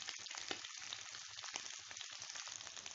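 Mutton pieces frying in oil over a high flame for Hyderabadi fried mutton tahari, giving a constant dense sizzle with soft crackles and no voices.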